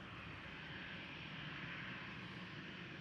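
Engine roar from a departing Delta jet airliner at Amsterdam Schiphol Airport, a steady, broad rumble and hiss heard from a distance without speech.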